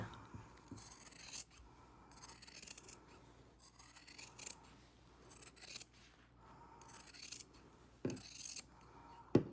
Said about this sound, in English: we're going to cut it right at that 1/4 inch line all the way around